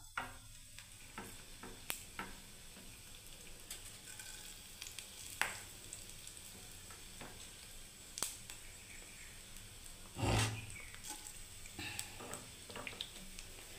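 Whole cumin seeds frying in hot oil, giving a steady soft sizzle with scattered small pops and crackles and a brief louder stir near the end, with no talking.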